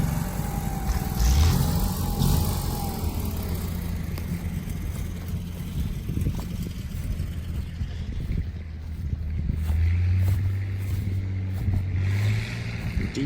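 A Farmall Super MTA diesel tractor from 1954, fitted with a single front wheel, runs steadily in a steam show parade, a low continuous engine rumble that swells slightly near the end, with outdoor background noise and no talk.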